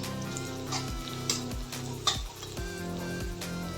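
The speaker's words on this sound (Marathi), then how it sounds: "तर आपला कांदा परतून झाला आहे." Chopped onion sautéing in a pan for a leftover-chapati chivda sounds like a steady close sizzle with soft stirring scrapes, running under melodic background music with no talking.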